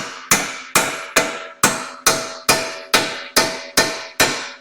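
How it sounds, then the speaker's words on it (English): A small hammer taps splined bolts back into place during a strut replacement on a 2011-15 Ford Explorer or Edge, giving about ten sharp, evenly spaced metallic strikes, loud and close, each ringing briefly before the next, with no talking. "just get your little hammer and tap on this guy"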